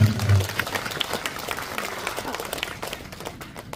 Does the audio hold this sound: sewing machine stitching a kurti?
no